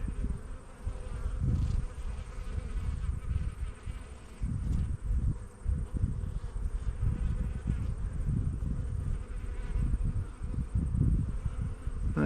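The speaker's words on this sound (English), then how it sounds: "A lot of bees in here, bit of honey on here, which is good." Honey bees swarm around an opened backyard hive, a dense, continuous buzzing drone close to the microphone with individual insects swelling louder as they pass.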